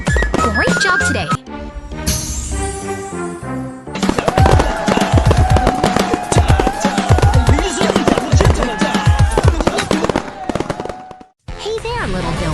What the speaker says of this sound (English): The skeletons are dancing and the fireworks are popping.